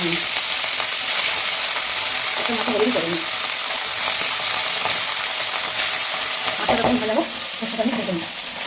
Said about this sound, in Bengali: তখন তেলটা গরম হয়ে গেছে তেলে মাছগুলো দেওয়া যাবে